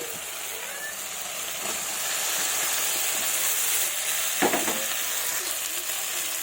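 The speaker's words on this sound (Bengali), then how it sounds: "এর মধ্যে ভেজে রাখা আলু ফুলকপি দিয়ে দিব।" Pre-fried potato and cauliflower go into hot oil in a pan for a fish curry, raising a loud continuous sizzle with a few scraping stirs.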